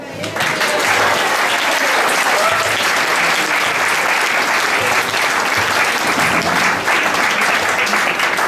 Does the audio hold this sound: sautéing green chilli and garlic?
no